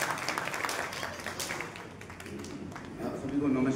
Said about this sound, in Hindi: एक बार और जोरदार तालियां बजा दीजिए।